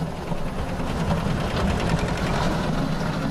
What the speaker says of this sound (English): The buzzing grows louder by the second, until all other noise is completely drowned out.